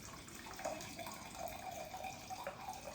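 A mixed drink is poured out of a cocktail shaker into a glass: a steady, close splashing liquid stream that runs for about three seconds with no voices.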